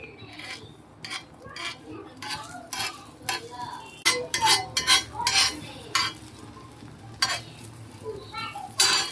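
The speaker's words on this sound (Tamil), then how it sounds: "அப்படியே ஆம்லெட் எடுத்து ஊற்ற வேண்டியதான்." Omelette batter cooks in a pan with a soft sizzle underneath, broken by repeated sharp scrapes and clicks of a utensil against the pan, up close.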